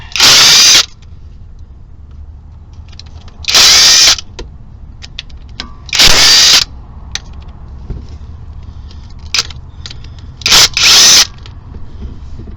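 An air impact gun zips out the 10mm or Allen 5 front seal bolts on a MK5 GTI engine: about five loud, sharp whirring bursts, each under a second, with quiet workshop pauses between them.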